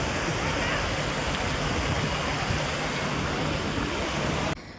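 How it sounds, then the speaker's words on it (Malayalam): Water cascading at a temple site on a pilgrimage trip in Mathura, a loud, steady broadband rush that continues unbroken for several seconds before dropping off sharply at the end. "വെള്ളം വീഴുന്നതിൻ്റെയാണ് ഇവിടെ ഇങ്ങനെ ഈ ശബ്ദം കേൾക്കുന്നത് കേട്ടോ"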